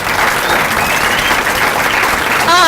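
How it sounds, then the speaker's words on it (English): An audience at a state cheerleading trophy ceremony applauds, a dense, continuous wash of clapping heard up close and fairly loud throughout, with a brief squeaky sound near the end. "I think we all have to give Brandon a big round of applause"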